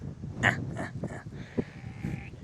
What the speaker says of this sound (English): That's what the sheep sing.